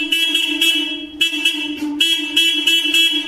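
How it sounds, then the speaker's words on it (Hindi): A loud horn fitted on a Swaraj 724 tractor blares in repeated long blasts, near and loud, with brief gaps between honks and no talking. "पहले हॉर्न के कंपेरिजन में तो बिल्कुल लाउड है, तो बेटा बजा फिर से एक बार।"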